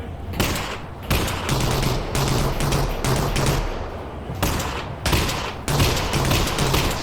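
Loud shotgun and gunfire blasts in the VR video game Half-Life: Alyx come in repeated heavy bursts with dense, rumbling noise between them.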